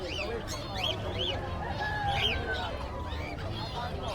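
Parakeets and African lovebirds at a Friday pet market in Bocaue chirp and squawk in rapid, overlapping calls, close and fairly loud over a busy crowd murmur.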